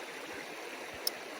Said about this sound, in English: This is the 5th time I will be crossing the river.